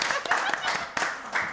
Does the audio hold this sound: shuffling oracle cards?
no